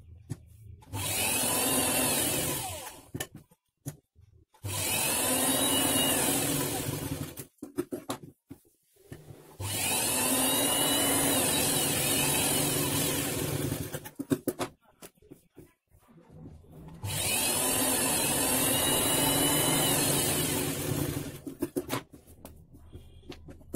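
Sewing machine stitching the lining of a blouse, humming in three long steady runs of several seconds each, separated by quiet pauses with faint handling noises.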